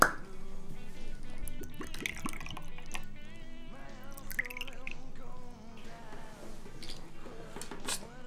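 Rum pours from a bottle in a short trickling, splashing stream, with dripping and plops, over a busy background of music and voices.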